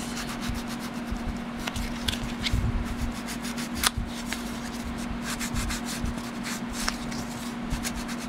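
Walnut stain rubbed onto the edges of a small paper card makes a steady, close, dry scuffing and brushing sound in quick repeated strokes, with a faint constant hum underneath.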